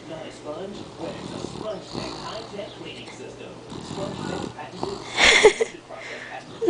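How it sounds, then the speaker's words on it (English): Soft, irregular snoring breaths from a child, with a louder snorting breath near the end and faint background noise. "My son could snore."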